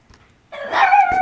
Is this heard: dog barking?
yes